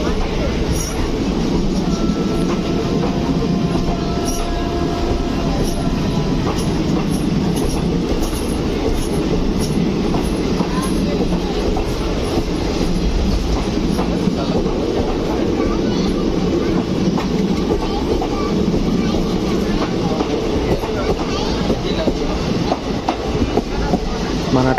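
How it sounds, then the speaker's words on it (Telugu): Howrah–Visakhapatnam Superfast Express train rolling slowly into Visakhapatnam station past a crossover, with a steady low rumble of wheels and carriages, faint clicks and occasional squeals throughout, loud and continuous. "మన ట్రైన్ అయితే స్లోగా మూవ్ అవుతుంది, ఆపుతూ మూవ్ అవుతూ."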